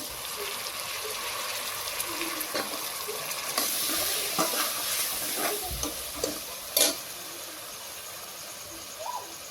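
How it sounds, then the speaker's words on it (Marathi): Cauliflower and other vegetables tipped into a hot pan for veg biryani and stirred, a steady soft sizzle with scraping and light clatter, fairly quiet and without speech. "आता आपण सगळे आपल्या भाज्या यात टाकून घेऊ. गोबी,"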